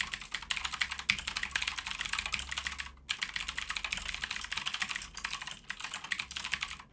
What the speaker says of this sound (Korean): 청축이라서 뭐 스위치 소리 들을 필요는 없겠죠 크게.